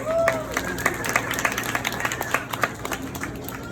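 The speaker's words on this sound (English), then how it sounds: "Let's give her a quick round of applause." Audience applause breaks out in a studio-style space-station exhibit, a dense patter of many hands clapping for about four seconds, with a few cheers and brief voices mixed in.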